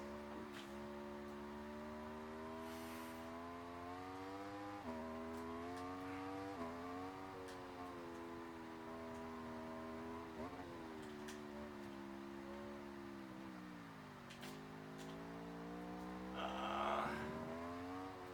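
An Aprilia motorcycle in the racing video game Ride 4 laps Oulton Park, its engine note whining steadily and rising and falling through gear changes across the whole stretch, with no talking.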